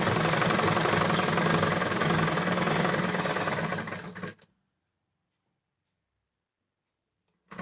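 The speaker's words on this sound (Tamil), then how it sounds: "நான் மிஷின் சவுண்டெல்லாம் வந்து குறைக்க மாட்டேன்." Sewing machine stitching newborn baby clothes, a loud fast rattling run of stitching for about four seconds that stops dead into silence, then restarts just at the end.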